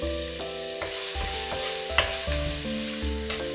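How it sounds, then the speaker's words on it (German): Spring onions and a little garlic fry in hot oil in a pan, giving a steady bright sizzle with a few stirring clatters, while a continuous low musical tone runs underneath. "Lauchzwiebeln und wenig Knoblauch anbraten."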